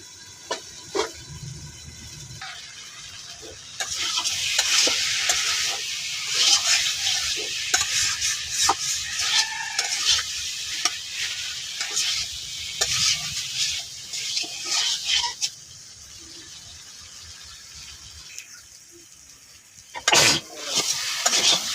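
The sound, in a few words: stir-frying spices in a pan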